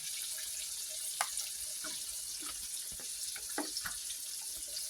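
Water runs steadily into a cooking pot as three cups are measured out for a simple home-cooked butter chicken, a continuous close pour with a few small splashes and clinks and no talking.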